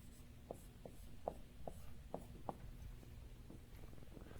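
A theorem being written on a board during a university lecture on polytopes: a steady series of short, crisp strokes and taps, close and fairly even in rhythm, over a low room hum with no talking.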